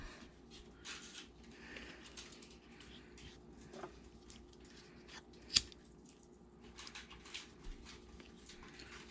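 Scissors snip through beading thread with a single sharp close cut, set against a quiet room with faint rustling, small handling sounds and no speech.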